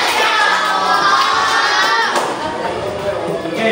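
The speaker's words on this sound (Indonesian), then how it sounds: "Kasih tepuk tangan lo." Classroom applause from students after a group presentation in an Islamic religious education lesson, a steady wash of clapping with children's voices and chatter mixed in throughout.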